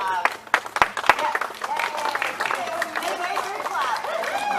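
Members of a walking tour group in Huntsville's historic Twickenham District clap outdoors. A few sharp individual claps come first, then scattered applause and cheering voices continue under chatter.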